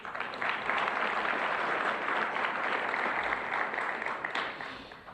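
An audience at an evening community event on Maui, attended by county officials, breaks into sustained applause. The dense clapping holds strong for several seconds, then tapers off toward the end.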